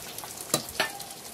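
Finely chopped tomato dropped into a simmering fish curry (mullet), giving two brief, soft sizzling splashes against a quiet, low kitchen background.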